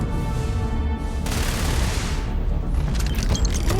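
Gunfire in the sci-fi video game Starfield, a dense run of booming shots and blasts filling the whole stretch at steady loudness, with mechanical clatter near the end and no talk.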